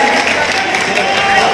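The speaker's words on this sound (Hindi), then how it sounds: "जोरदार तालियों से स्वागत कीजिए" Sustained audience applause welcoming guests at a political event, steady and dense clapping from a crowd throughout, with voices mixed in.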